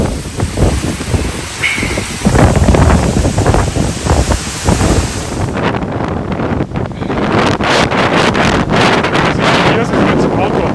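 Strong storm wind buffets the microphone while rough waves on a lake crash and wash nearby, a loud continuous roar with choppy surges; a voice speaks briefly early on.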